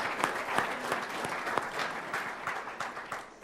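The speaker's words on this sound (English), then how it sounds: "Let's give him a round of applause for the opening." An audience at a Pro Football Hall of Fame event bursts into brisk, sustained applause: a dense patter of many hands clapping at moderate distance for a few seconds.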